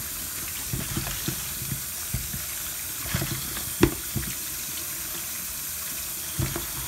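Tap water runs steadily into a kitchen sink while small baby potatoes are washed by hand. A constant close hiss carries occasional soft knocks and splashes from the handling, and no voices are heard.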